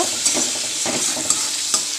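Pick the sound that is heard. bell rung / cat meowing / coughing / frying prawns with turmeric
frying prawns with turmeric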